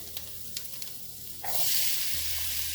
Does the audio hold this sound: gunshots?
no